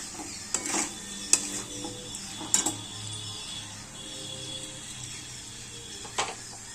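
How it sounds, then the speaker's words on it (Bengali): Roasted cauliflower being stirred with masala in a pan, with a spoon scraping and tapping the metal in scattered clicks over a quiet kitchen hum. "এবার ভালো করে ওই কষানো যেই মশলাটা ওর সঙ্গে ভালো করে যাতে মিক্স হয় তারভাবে নেড়ে নাও।"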